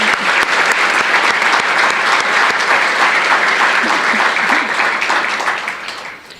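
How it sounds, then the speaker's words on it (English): A large audience at an evening awards tribute gives a sustained round of applause for the event sponsors, dense and steady clapping that fades slightly at the end. "Please join me in giving all of our sponsors a round of applause."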